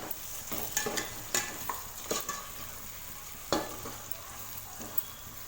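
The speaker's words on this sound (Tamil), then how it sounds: "சேர்த்துட்டு இதை நல்லா மிக்ஸ் பண்ணி வதக்கி விட்டுக்கலாம்." Mutton pieces with salt stirred and sautéed in a pan for mutton biryani: a steady sizzle broken by repeated scraping and clacking of a spoon against the pan at close range, with no one talking.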